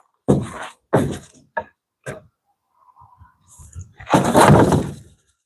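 A plywood-and-insulation door on a DIY mini truck camper gives a series of loud thunks and knocks as it is worked open and shut, with a final longer rattling slam.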